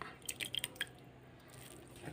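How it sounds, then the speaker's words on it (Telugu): Soaked idli rava, already washed three times, is squeezed by hand to press out the water, giving a few soft, wet squishing and dripping sounds close up in the first second, then near quiet. "దీన్ని ఇలా పిండేసి దీనిలో వేసేసుకోవాలన్నమాట"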